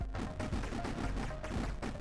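Rapid bursts of gunfire in the Polygunners video game, dense and continuous shooting with booming impacts layered over a busy game soundtrack.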